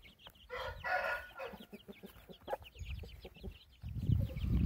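A golden-colored Indian gamecock rooster gives a faint crow and soft repeated clucks outdoors in a farmyard, with brief scratchy background noises and no talk.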